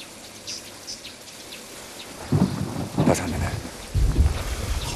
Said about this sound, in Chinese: 好像快下雨了